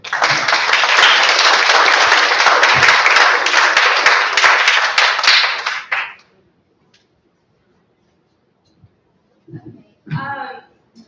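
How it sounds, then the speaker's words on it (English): Loud, dense audience applause at a church farewell gathering, sustained for about six seconds before stopping abruptly, then quiet with a few faint noises and a short spoken voice near the end. "So big round of applause"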